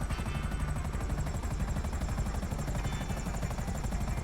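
An Akula military helicopter in Grand Theft Auto V flying close by, its rotor beating in a loud, fast, continuous chop with a steady engine whine, no voices.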